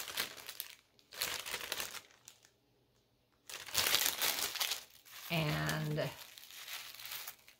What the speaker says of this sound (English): Crinkle, crinkle.